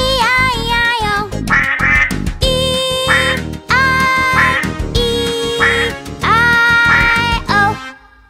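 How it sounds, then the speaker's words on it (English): Cartoon-style duck quacks repeat in rhythmic bursts through a children's Old MacDonald nursery rhyme song, loud and close, sung with music throughout. "With a quack, quack here and a quack, quack there."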